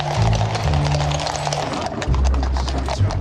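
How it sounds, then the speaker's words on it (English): Cavalry horses travelling with a horse-drawn baggage wagon down to Horse Guards: a steady, close clatter of hooves over a continuous low rolling rumble, with no talk. "The baggage wagon is travelling down with the troops to Horse Guards"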